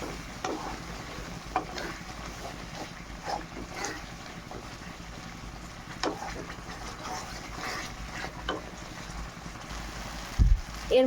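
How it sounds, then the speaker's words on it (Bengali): Spice paste with potatoes frying in a pan for a fish curry, a steady low sizzle with occasional scraping stirs across the whole stretch and a sharper clatter near the end. "আলুটা দিয়ে ভালো করে মশলাটা কষিয়ে নেব।"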